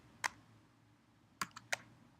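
Computer keyboard keys pressed, a Windows key plus R shortcut: one isolated click, a pause, then three quick clicks close together, quiet and near over a faint background hum.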